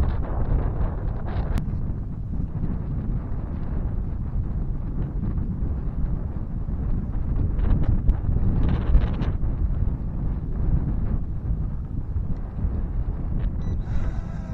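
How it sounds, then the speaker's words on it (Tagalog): Strong wind at a riverside picnic area buffets the microphone with a constant loud roar, likely carrying rustling from the trees, steady throughout with occasional brief crackles. "Grabe, malakas ang hangin."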